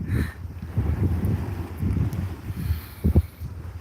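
Steady wind buffeting the microphone outdoors at the seafront of Yokosuka Bay, a low rumbling roar with gusts.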